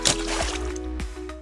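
Short watery sound effect of surfacing from below: a quick bright splash burst at the start, then gurgling sloshes and a couple of soft bubbly pops, close and moderately loud.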